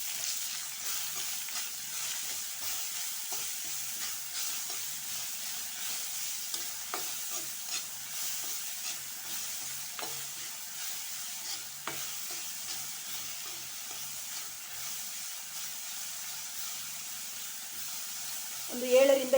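Amla rice mixture with a spoon of jaggery fries in a pan while being stirred: a quiet, continuous sizzle with scattered spatula scrapes and taps, ending in a brief louder clatter.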